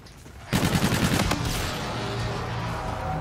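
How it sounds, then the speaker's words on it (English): Sustained rapid gunfire from a video-game gun run erupts after a quiet half second, a loud dense burst that continues as a steady roaring barrage to the end. "Inbound for gun run."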